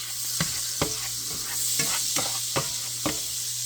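Melted butter and a little oil sizzling in a pan on the stove: a loud, steady close hiss with a steady low hum underneath and regular faint scraping ticks, with no voices.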